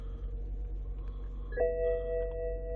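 A BMW 7 Series with about 270,000 km on it chimes a dashboard warning just after starting inside the cabin. A steady low hum runs throughout, then a clear, loud sustained tone sounds at around 1.6 seconds and rings on to the end.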